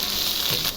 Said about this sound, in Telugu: ఈ వంకాయ ముక్కలు ఇంట్లో వేయాలి